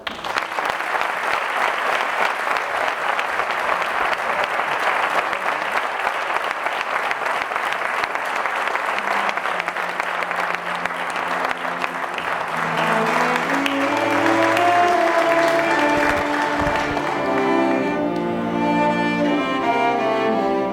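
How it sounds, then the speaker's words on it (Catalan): An audience at a tribute event in Ontinyent claps warmly and steadily for about twenty seconds before music swells in and the applause fades. "Un fort aplaudiment."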